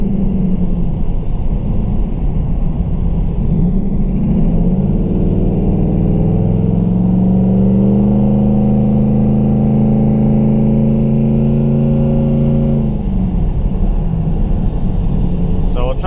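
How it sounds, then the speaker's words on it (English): A Mustang with a TH400 automatic transmission and high-stall torque converter revs up, its engine droning and climbing in pitch over several seconds before easing off, a loud, close rumble inside the car. "it takes a lot of gas to get this thing going because the stall on the converter is pretty high"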